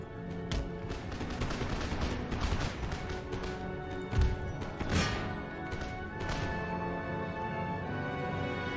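Musket fire in an Empire: Total War battle, scattered crackling volleys and sharp reports over a dense battlefield din, a few heavier thuds standing out, with no voices.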